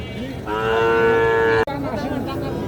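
A cow at a busy cattle market near a border lets out a long, loud, close moo, with crowd murmur and market bustle continuing around it.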